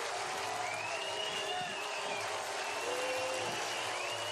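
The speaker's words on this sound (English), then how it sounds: "And listen to the fans on their feet." A spring training baseball crowd roars after a three-run home run, a sustained distant wash of cheering and clapping with whistles over it, heard as constant stadium noise.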